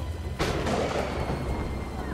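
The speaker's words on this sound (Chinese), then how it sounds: "好，这里要用爆炸，" A loud blast in a zombie video game bursts in sharply after a short lead-in and rolls on as a dense, sustained rumble to the end.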